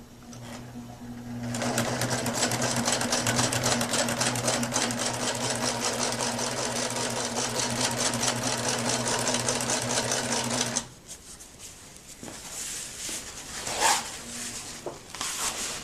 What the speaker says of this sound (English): I'm going to put the second stitching in on my center seam today.